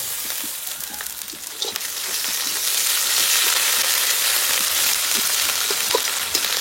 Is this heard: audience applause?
no